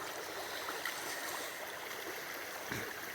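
The Hoh River rushes along steadily, its water flowing as a continuous broadband wash with no break and no voices over it.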